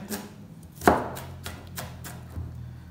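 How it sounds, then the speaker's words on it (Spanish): A knife chopping an onion finely on a cutting board in a home kitchen, a handful of crisp separate cuts with one sharp louder thud among them, close and fairly quiet. "Estos pedazos los cortamos en pedazos más pequeños"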